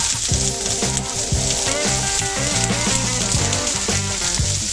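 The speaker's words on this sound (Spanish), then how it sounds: "Y seguimos entonces friendo nuestra cebollita a la plancha." Onion frying on a flat griddle with coarse salt gives a loud, dense, continuous sizzle and crackle, heard close up with no talk.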